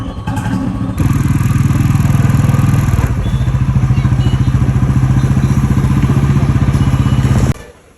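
A Royal Enfield Bullet motorcycle thumps in a steady, loud, close idle with a rhythmic low beat that stays constant for several seconds before cutting off sharply near the end.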